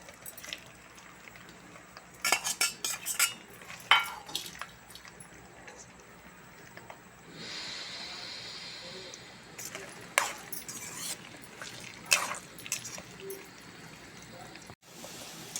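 Chicken pieces fry in hot oil in a pot, giving a soft sizzling hiss in the middle stretch, scattered sharp metallic clinks from utensils, and a quiet background.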